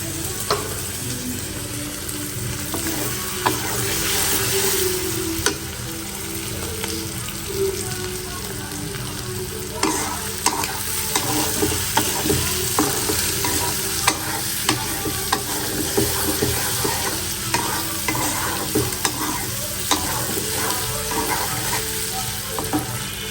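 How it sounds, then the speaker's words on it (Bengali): Shrimp fry in a pan with turmeric, chili and green chilies, giving a continuous sizzle punctuated by the scrape and clack of stirring, close and steady throughout. "অল্প একটু চিংড়ি মাছ ভুনা করার জন্য আমি হলো যে হলুদ মরিচ কষাই নিচ্ছি"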